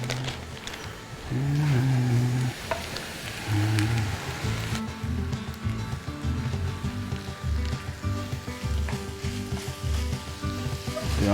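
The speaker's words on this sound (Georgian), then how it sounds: "კარგად რომ მოითუშება, ჩავყაროთ საქონლის ფარში" Minced beef sizzling in butter and oil in a frying pan with onion and garlic, a steady crackling hiss throughout, joined by a man's speech early on.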